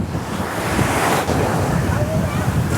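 Waves of the Sea of Azov along the Crimean shore rolling and washing in a continuous surf roar, mixed with gusty wind buffeting the microphone.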